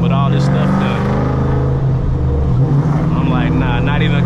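A cammed Ford Mustang GT S197 V8 rumbles loud and steady throughout, a deep lopey idle-to-cruise drone with crackling exhaust pops rising near the end, while someone talks over it.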